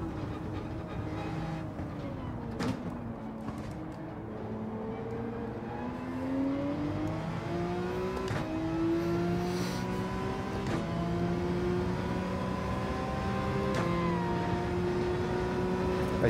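A Vision racing car engine in Gran Turismo 7 whines and revs, its pitch rising and falling in smooth sweeps, steady and moderately loud throughout.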